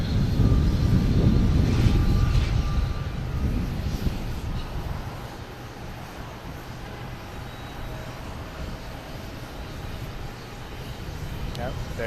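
Iberia airliner on the Madrid flight at Boston Logan, a loud jet engine roar that swells early then gradually fades, with people talking over it.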